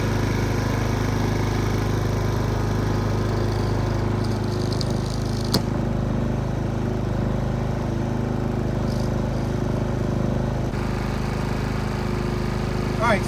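A Predator 5000 generator engine, mounted on a truck bed, runs steadily after choking, a constant loud droning hum with a buzzing low rumble, unbroken throughout with a faint click partway.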